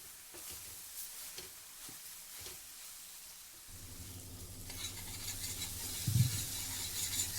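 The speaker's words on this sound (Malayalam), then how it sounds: "എല്ലാം കൂടി നന്നായിട്ടൊന്ന് സോട്ട് ചെയ്തെടുക്കാം" Brinjal with Kashmiri chilli sautéing in a steel pan, first a quiet sizzle broken by light stirring taps, then a louder, denser frying hiss that swells toward the end with a scrape, no speech.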